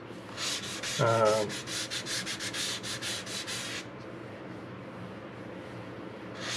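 Curved end-grain wood on a guitar build being hand-sanded, a close series of rapid rhythmic rubbing strokes that stops abruptly, followed by quiet before another stroke begins.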